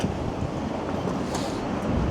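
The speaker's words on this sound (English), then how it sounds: "how much of the wind sound is being picked up by my mic" Wind buffets an external DJI Mic 2 fitted with a wind muff on a windy Toronto street walk, a loud continuous rumbling roar with gusty swells and no speech.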